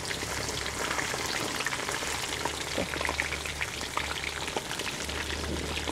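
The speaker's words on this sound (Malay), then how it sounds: "Goreng hingga habis Kak Yo." Food sizzles and crackles in hot oil, a dense continuous spitting that stays loud and close throughout.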